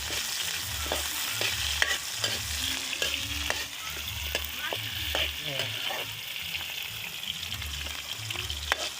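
Fish cooking in a pan is stirred steadily, sharp scrapes and clicks landing every half second or so over a continuous sizzle, with a low repeating rumble underneath and no talking.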